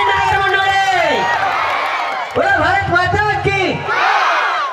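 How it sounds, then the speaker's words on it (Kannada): A village crowd at a comedy show roars with loud, close shouts and whooping cheers in two bursts separated by a brief lull, voices overlapping in excited yells. "ದಯವಿಟ್ಟು ತಮ್ಮೆಲ್ಲರ ಪ್ರೀತಿಯ ದೊಡ್ಡ ಚಪ್ಪಾಳೆ ನಮ್ಮ ಊರಿಗೆ ಬರಲಿ ಜೋರದ ಚಪ್ಪಾಳೆ"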